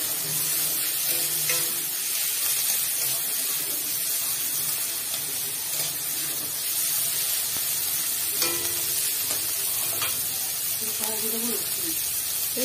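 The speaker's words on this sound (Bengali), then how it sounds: "এটা একটু লাল লাল করে ভাজা হবে।" Onions fry in oil until reddish for a Bengali mustard chicken dish, giving a steady, close hiss and sizzle that runs under intermittent talking.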